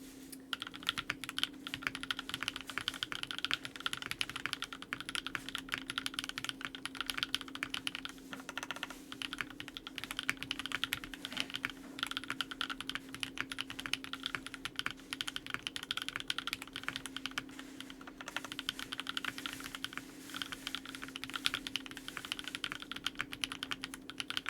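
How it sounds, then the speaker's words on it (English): Steady, rapid typing on a Photon prototype keyboard with a polycarbonate injection-molded plate, Summertime V2 switches, TX stabilizers and GMK Analog Dreams keycaps, producing dense close-up keystroke clacks throughout with brief pauses. "Photon keyboard prototype with a polycarb injection molded plate, Summertime V2 switches, TX stabilizers, and GMK Analog Dreams"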